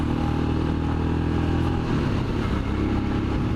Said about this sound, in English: That's some sort of rattle in the engine, some sort of hammering in the engine.